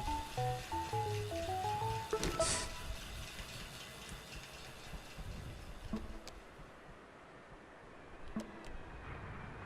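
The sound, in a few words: train passing, video game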